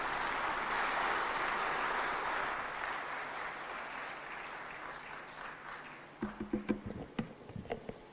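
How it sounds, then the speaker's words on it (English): A summit audience of African heads of state bursts into sustained applause that swells loudly, then slowly fades, with a few voices rising over the last scattered claps. "May I request you to stand up and we clap our hands."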